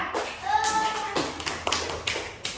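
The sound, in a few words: children clapping in classroom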